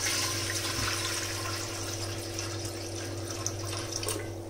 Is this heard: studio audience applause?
no